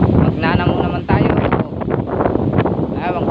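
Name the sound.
strong wind outdoors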